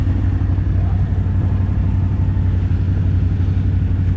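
Kawasaki Brute Force 750 ATV engine running steadily in low range, a loud, close, continuous mid-low throb with a fast rhythmic pulse and no voices.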